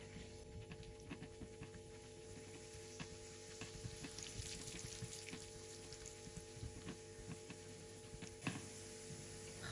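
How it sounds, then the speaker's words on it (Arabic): Quiet, steady sizzling and crackling of pine nuts frying in ghee in a pan, with occasional small pops throughout. "عنا هون بالمقلة 2 معالق صغار سمنة وصنوبر، بقليهم لياخدوا لون"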